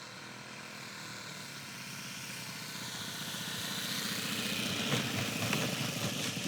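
A Top Flite Bonanza V35 RC model airplane comes in to land with full flaps, its engine droning steadily and growing louder as it approaches, with no talking.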